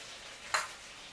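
Food sizzles in a hot pan with sugar, ginger and hot sauce, a short loud hiss bursting up mid-clip then settling into a soft, steady background fizz.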